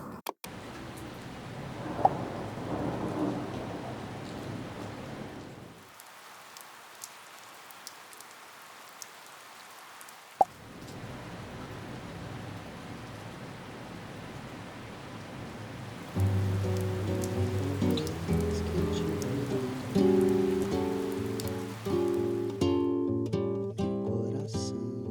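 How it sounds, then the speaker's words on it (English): Heavy rain falling steadily, a dense hiss of drops on surfaces that drops away midway and later returns, with louder tonal background sounds joining near the end. "The way that it's raining so hard right now is actually insane."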